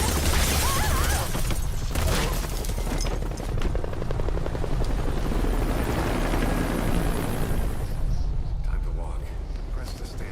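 Helicopter rotor roar in Metal Gear Solid V: The Phantom Pain, a loud continuous chopping drone that fills the whole stretch and eases slightly toward the end, with talk over it.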